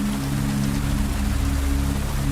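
Steady monsoon rain falls at night, a constant dense hiss of drops hitting surfaces, with a low rumble beneath and no voices.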